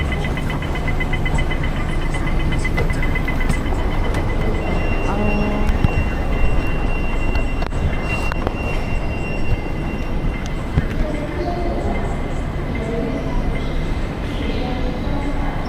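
A train at a Hong Kong station rumbles and clatters over a steady bed of noise, with short tonal beeps and sharp knocks breaking through and faint voices in the background.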